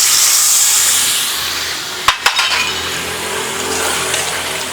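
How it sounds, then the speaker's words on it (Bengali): Water poured into a hot pan of egg malai curry makes a loud, close hiss of steam and sizzle that fades gradually, with two sharp metallic clinks midway. "এবারে দিয়ে দিচ্ছি সামান্য পরিমাণে জল।"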